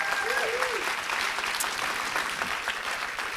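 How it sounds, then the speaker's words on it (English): An awards-ceremony audience applauds for the Peace Corps chief of staff, a steady, even roar of many hands clapping at moderate distance, with a brief voice audible early on. "Round of applause for Laura Chambers"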